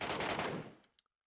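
A short burst of automatic gunfire in the shooter game Metro Royale cuts off abruptly, leaving a faint metallic click or two as it dies away.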